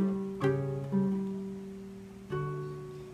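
Acoustic guitar picking a song intro, three plucked note clusters ringing out with sustained harmonics, played alone and close.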